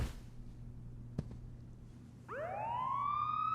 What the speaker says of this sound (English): Sounds like the cops are coming, Mr. Sharp.